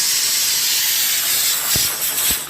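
A kitchen pressure cooker vents steam in a steady, loud hiss that fills the whole clip, with a couple of faint knocks near the end.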